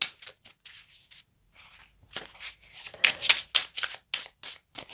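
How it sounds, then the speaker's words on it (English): A tarot deck shuffled and cut close up, first a few soft papery flicks and then a denser, louder run of crisp card riffles and snaps, with no voices. "Just cut the deck one more time."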